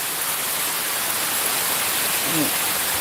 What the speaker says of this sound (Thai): ดูแรงฝนนะขาวโพลนหมดแล้ว